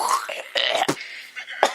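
A few short, harsh coughs come in quick succession, close and fairly loud, with a throaty, clearing quality.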